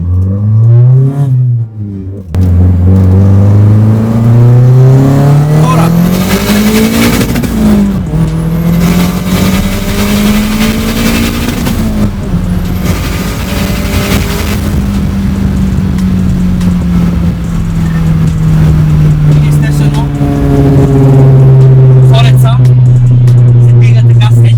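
A BMW E30 turbo, a car over forty years old, revs and accelerates hard while being driven, its engine note climbing and falling through gear changes, loud and close throughout with a voice talking over it.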